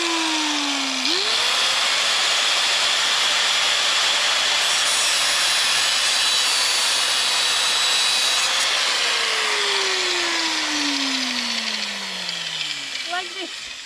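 Power saw cutting wood while a fence is built, a loud continuous motor whine close by for about fourteen seconds. Its pitch sweeps up, then falls steadily as the blade loads, and it eases slightly near the end.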